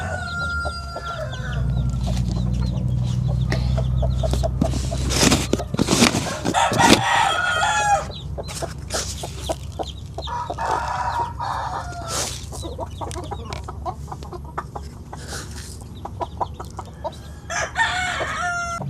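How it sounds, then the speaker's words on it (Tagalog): Aseel-cross chickens and chicks feeding on scattered grain, with close clucking and peeping throughout, a loud rooster crow in the middle and busy pecking. "Ayan, nagsimula na pong kumain yung ibang sisiw."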